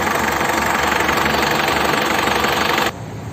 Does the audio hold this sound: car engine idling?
yes